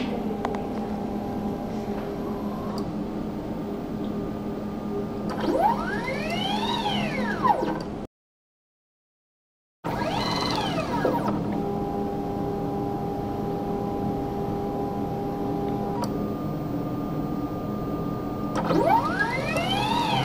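A laboratory sample swiper testing machine runs a sample, giving a steady mechanical hum with tonal whine and rising and falling motor sweeps, briefly cutting out to silence midway before resuming.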